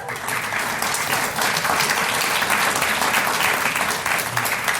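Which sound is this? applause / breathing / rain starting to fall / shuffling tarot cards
applause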